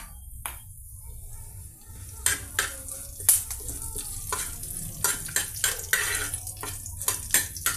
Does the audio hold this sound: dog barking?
no